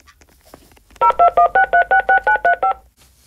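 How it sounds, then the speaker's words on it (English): Rapid run of about ten electronic telephone keypad tones, evenly spaced and loud, dialed on a phone inside a Roblox hotel game, with faint background sound before and after. "get to the phone and call for help."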